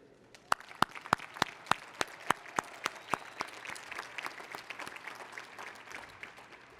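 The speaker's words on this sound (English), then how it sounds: "let's take a moment to thank and applaud all those who have supported you on your incredible academic journey." Audience applause at a 2024 university engineering and computing advanced degree graduation ceremony, opening with distinct sharp claps that swell into sustained clapping from a large crowd, then slowly thin out.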